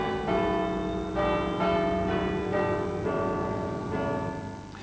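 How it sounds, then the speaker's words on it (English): Bradford City Hall's bells chime in a slow sequence of resonant, ringing strikes, each tone overlapping the decaying hum of the last, clear and fairly loud with no talking. "This is what Bradford's bells used to sound like."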